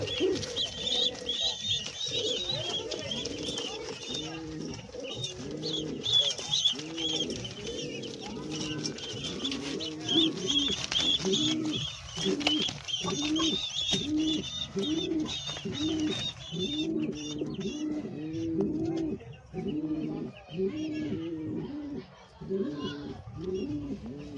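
Soft, repeated cooing and murmuring from two pigeon chicks begging for food, steady and close, with a busy rhythmic churn of calls throughout.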